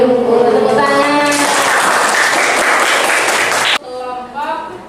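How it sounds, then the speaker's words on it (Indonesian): A classroom of children bursts into applause after singing, a loud, dense clapping that lasts a few seconds and then stops abruptly, with young voices heard before and after. "Tepuk tangan."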